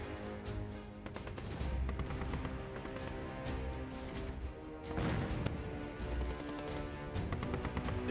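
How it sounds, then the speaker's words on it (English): Heavy booming tank cannon shots and rattling gunfire in the video game Arms Trade Tycoon: Tanks sound in irregular bursts, layered over a constant dense rumble of battle noise. "Their tanks went down to a single shot from the cannons."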